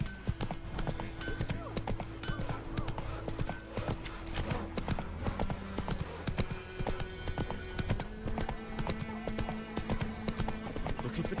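Roach the horse from The Witcher 3 gallops steadily, hooves clip-clopping in a fast continuous rhythm over a bed of game music, with a brief whinny and faint background voices.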